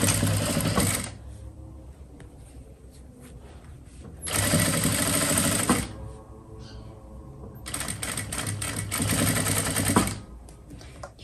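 A sewing machine stitching trousers, running in three bursts of rapid, even mechanical clatter separated by quieter pauses with small handling noises.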